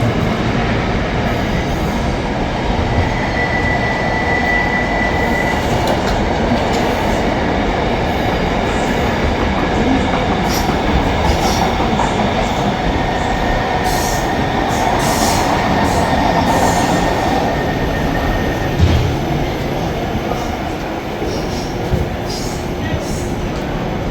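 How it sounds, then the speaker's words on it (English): A Manchester Metrolink tram runs close by, a loud continuous rail rumble with wheel clatter and occasional high squeals over about twenty-four seconds, faint voices underneath. "bit of train action"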